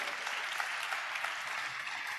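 A church congregation claps together in a steady, dense patter, many hands beating continuously at moderate volume with light rhythmic peaks.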